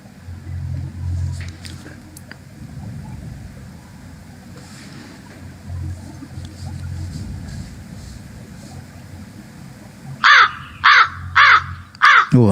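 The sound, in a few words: crow cawing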